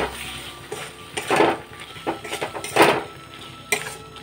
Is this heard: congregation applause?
no